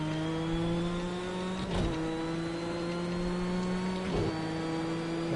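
A Subaru Impreza WRX engine in Project Cars 2 racing game holds a steady droning note, with two brief shifts or revs around two and four seconds, loud and continuous without talk.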